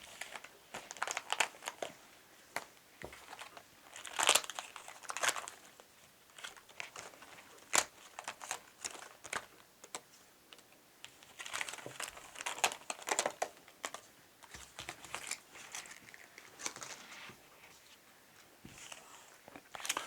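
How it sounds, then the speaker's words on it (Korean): Paper parts are torn and detached from a pop-up book sheet, giving irregular crinkling, snapping and crackling bursts close by, scattered in clusters over a quiet background with no talk. "먼저 색깔이 들어가 있는 부분에는 테이프를 다 붙여주시고 부속을 다 떼도록 하겠습니다"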